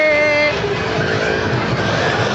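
Motorbikes roaring around the wooden wall of a well-of-death show at a fair, a loud continuous engine drone with high tonal whine, close and dense, with crowd noise underneath.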